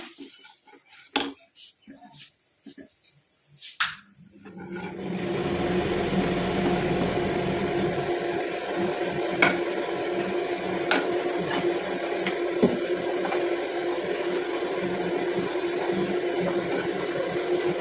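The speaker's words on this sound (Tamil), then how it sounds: "என்னடா சவுண்டு கேட்குது நினைக்காதீங்க ரொம்ப புகையாக இருக்கிறதுனால நான் சிம்மினியை வந்து ஆன் பண்ணி விட்டுருக்கேன்" An electric kitchen chimney exhaust hood switches on after a few clattering kitchen sounds and then runs with a steady loud whirring drone that continues to the end.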